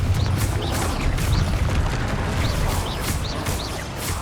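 Confringo spell blast in the Hogwarts Legacy video game during a troll fight, a series of loud booming explosions with crackling bursts repeating through the scene.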